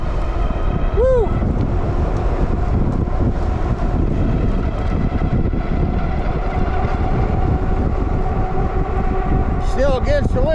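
Steady, loud wind rush buffets the microphone while riding a Wallke H9 all-wheel-drive e-bike downhill, with a continuous roar throughout and a brief tonal squeak near the end.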